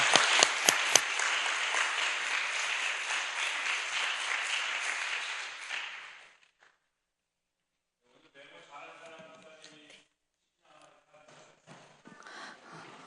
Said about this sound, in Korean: 우리 유성희 실장님 나오실 때 우리 큰 박수로 환영하겠습니다